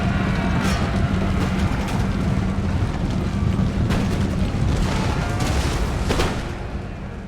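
Artillery firing through a breach in Empire: Total War, with repeated heavy booms over a continuous rumbling battle din, loud and close.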